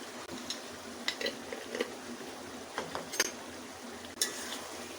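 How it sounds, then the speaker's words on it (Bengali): Catfish curry with cumin stirred in a pan, a few soft scrapes and clinks of a spoon against metal over a faint low sizzle, quiet and close with no voices. "তারপরে একটু নাড়াচাড়া দিয়ে ভালো করে একটু নাড়াচাড়া দিয়ে দিয়ে দেব চারটা কাঁচামরিচ"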